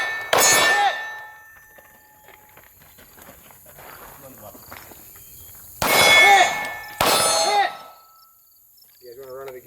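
Pistol rounds strike a steel target on a shooting range, each hit a bright metallic clang that rings and decays; three separate strikes stand out against quieter background shuffling and a brief voice near the end.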